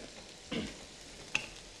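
A spoon stirs fresh coconut into green beans in a pan, with two brief scraping clatters over a faint low sizzle, quiet and close, no voices.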